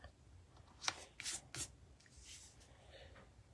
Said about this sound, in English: I'm going to bring in a basic white thick card base